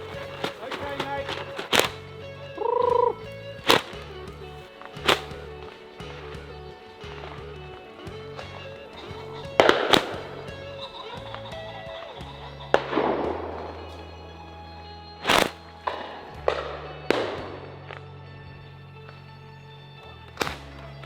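Shotgun shots crack out across a wooded pheasant shoot drive on an English estate, as sharp single reports at irregular intervals, some near and loud, others distant, with voices and footsteps between them.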